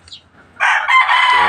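A young rooster (stag) crows loudly and close by in a backyard, one drawn-out cock-a-doodle-doo that starts after a brief quiet lead-in.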